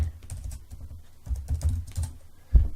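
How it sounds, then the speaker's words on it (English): A computer keyboard is typed on to write a chat message, with quick, close clusters of soft key clicks in an irregular rhythm and a heavier keystroke near the end. "I can simply type down here to add another message"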